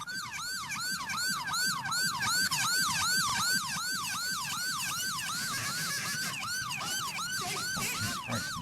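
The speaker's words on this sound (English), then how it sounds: "That siren is a pain in the butt." An emergency vehicle siren wails in a rapid, repeating up-and-down sweep, loud and close, continuing steadily throughout over a low rumble of traffic with no voices.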